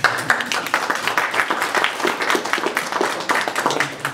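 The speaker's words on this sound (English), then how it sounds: "So, round of applause again." A small group applauds at a Toastmasters-style leadership training session, close, distinct claps forming an uneven, lively patter that stays loud for the whole stretch.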